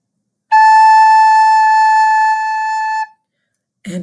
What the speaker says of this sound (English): Get your A ready. This is A.